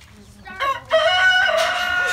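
Chickens in a farmyard where a Jersey cow is being milked give loud, drawn-out, crow-like calls, one short call followed by a longer, louder one, close by with a faint murmur of background sound.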